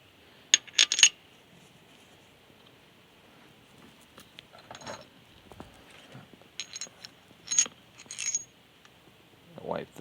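Metal bolts clinking as they are set back into engine parts during a teardown of a Dodge D150 318 CID V8, scattered sharp taps and small rattles at close range in a quiet room.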